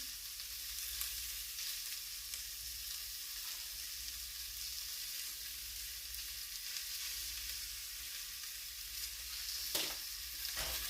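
Cabbage being stirred in a cooking pot of corned beef and cabbage, a steady close hiss of simmering with soft scraping and one brief clink near the end, no voices.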